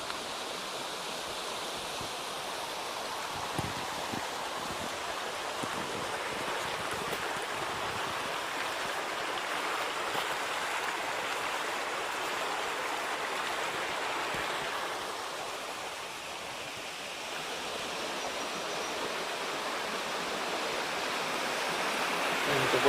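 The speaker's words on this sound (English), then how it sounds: "A bit of a river here." Water from a river rushes steadily beside a road on a sunny day in Tasmania's hills, a continuous broadband wash that dips slightly near the end and then swells again.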